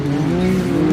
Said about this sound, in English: Multiple cars come round, trying and vying for position.